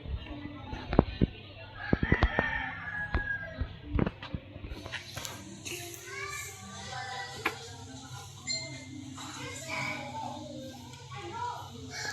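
Rooster crowing and birds calling outdoors, with scattered sharp knocks and voices talking nearby, then a steadier background of chirps and chatter.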